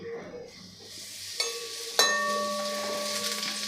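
Ground rice roasting in melted ghee while being stirred constantly, a moderate sizzle with a couple of sharp utensil scrapes or taps against the pan and no voice.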